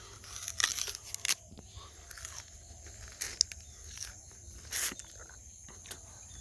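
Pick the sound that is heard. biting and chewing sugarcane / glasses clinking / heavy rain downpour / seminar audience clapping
biting and chewing sugarcane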